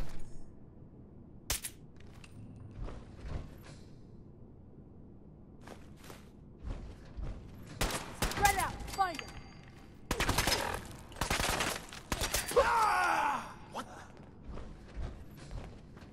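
Enemies fire in Fallout 4: scattered single gunshots give way to dense bursts of rapid fire in the middle and later part, mixed with footsteps, thuds and clanks, and brief talk in between.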